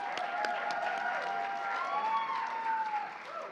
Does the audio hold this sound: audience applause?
yes